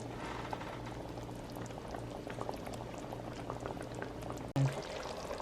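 Jamaican curry goat cooking in a covered pot, giving a continuous low bubbling boil with a faint steady simmer, close and quiet, and a brief clunk near the end.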